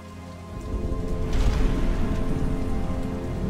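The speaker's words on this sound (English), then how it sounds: "it's raining" Steady rain pouring down in the video game Batman: Arkham Asylum, a dense hiss of drops on surfaces that swells after the first half-second and holds loud and constant, with no voices.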